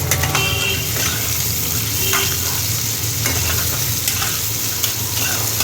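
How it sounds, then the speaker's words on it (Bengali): Mixed vegetables with tomato, ginger and a pinch of asafoetida sizzle loudly and continuously in a pan, while a utensil stirs and scrapes with occasional light clinks. "দিয়ে এবার ভালো করে সবজিগুলো ভেজে নেব"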